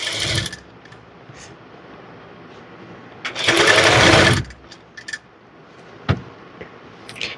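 A sewing machine stitches a blouse sleeve to the armhole in one loud, close, sustained run of about a second, framed by brief quieter whirs and handling clicks.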